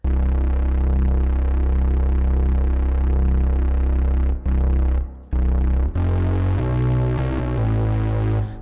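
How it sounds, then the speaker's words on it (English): Bass Master VST bass synth with the dark reverb setting, a loud sustained deep droning bass line that pulses steadily, breaks off briefly twice, then returns with shifting held notes ringing into a reverberant tail. "And then last but not least, let's add some reverb."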